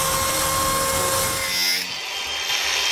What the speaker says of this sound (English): Just like Jazza, some power tools for your art.